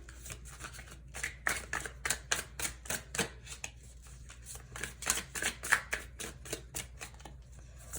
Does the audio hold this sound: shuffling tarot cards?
yes